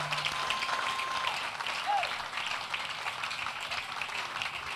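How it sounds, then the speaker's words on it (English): Applause from a church lecture audience, a steady broadband patter of many hands that holds for the whole stretch, with faint voices and a stray whistle or call mixed in. "Keep clapping. Keep clapping."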